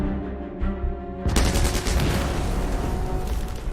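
Intense small-arms gunfire erupts in a WWII battle on Walcheren island, a low rumbling bed giving way to dense crackling bursts of rifle and machine-gun fire, loud and sustained without speech.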